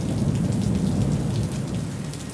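Rain drums steadily on a car, a dense close patter of drops with no pauses and no voices.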